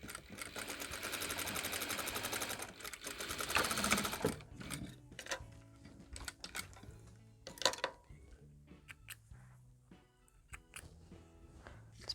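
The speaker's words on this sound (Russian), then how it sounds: "прошиваем вот этот вот прямой шов" A sewing machine stitches a straight seam on fabric pieces for a sleepy bunny toy, running in a fast steady buzz for about four seconds, then in shorter stop-start bursts with pauses and handling noises.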